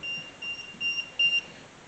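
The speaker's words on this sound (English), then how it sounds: "my meter went off because it was too close to my cell phone." A handheld ghost-hunting EMF meter held close to a cell phone gives a series of faint, thin electronic beeps in short irregular bursts inside an old abandoned hospital.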